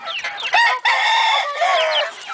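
Young pure-blooded Kelso gamecock stags crow loudly and steadily at close range, their harsh drawn-out calls overlapping for the whole stretch with no talk.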